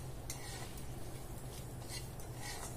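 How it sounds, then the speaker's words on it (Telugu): Papad pieces frying in oil in a kadai, a steady crackling sizzle close by, with occasional light scrapes of a utensil against the pan. "ముక్కలుగా చేసేసి ఇలా ఫ్రై చేద్దాం"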